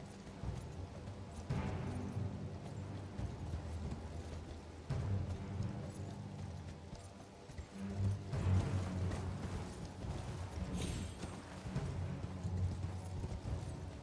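Horse hooves clip-clop steadily in an Elden Ring platformer game, a continuous rhythmic clatter of steps with occasional louder bursts and mechanical game sounds layered underneath.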